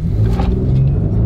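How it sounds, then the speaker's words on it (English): A V6 pickup truck with over 300 horsepower accelerating hard from a stop, its engine giving a loud, steady, close-up rumble with no voices. "Nice sounding V6. Smooth as silk shifting."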